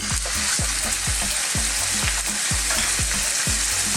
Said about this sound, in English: I've got just a little touch of oil in there, and I'm going to go in with my minced beef